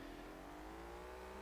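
A voice imitates a car engine revving during a Gran Turismo racing game on the PSP, a smooth, steadily rising drone held for a second or two without any words.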